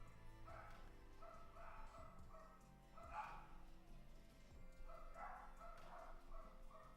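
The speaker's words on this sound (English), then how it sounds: "apologies if you can hear the dogs" Dogs bark in repeated bursts, faint and somewhat distant, heard in a quiet indoor room without clear speech.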